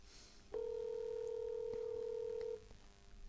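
An outgoing phone call: a single long steady tone sounds for about two seconds, like a dial or ringback tone, with brief faint clicks and low room noise around it.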